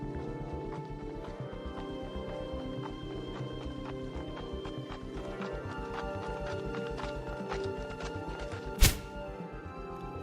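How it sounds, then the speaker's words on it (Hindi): As a rider sets off on horseback in a Hindi horror story, steady rhythmic hoofbeats clip-clop throughout at a trotting pace. A single sharp crack stands out near the end. "वह अपने घोड़े पर सवार होकर निकल पड़ता है"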